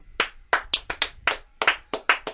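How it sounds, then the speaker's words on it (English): A small group clapping together in a quick, uneven burst of about ten close, sharp claps, with no talking over it. "We're applauding ourselves."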